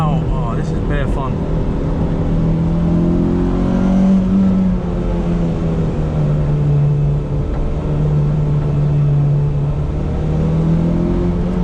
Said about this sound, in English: Revving that out.